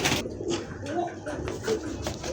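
Caged pigeons, fancy breeds such as Giribaz, Rajgolla and large pigeons, give soft low cooing calls in short repeated bursts over a busy background of other noise and faint voices.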